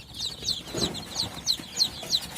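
Local chicken chicks on a farm in Bongaigaon, Assam, chirping and clucking in short repeated high peeps, several birds close by with faint shuffling underneath, no talk.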